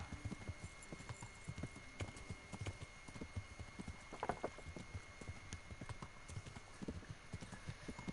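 Hooves clip-clop at a steady trotting pace in the video game Kingdom Come: Deliverance, fairly close and quiet, over a faint background hum.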